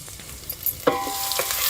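Ginger and garlic sizzle in hot oil for a tempering, a short bright hiss with a brief clatter of stirring near the middle.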